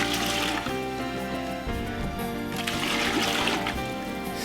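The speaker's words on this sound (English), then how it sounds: "get them into the main cooking pot and cover them with water as quickly as possible" Water trickles and splashes into a cooking pot of freshly picked hawthorn berries, a continuous close pouring sound with bubbly splatter throughout.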